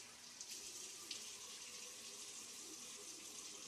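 Tap water runs steadily into a sink before a shave, a soft, even hiss with a couple of faint splashes, no talking.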